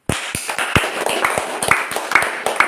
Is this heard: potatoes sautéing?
no